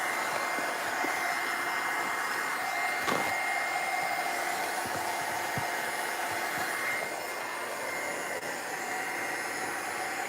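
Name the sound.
hair dryer drying a painting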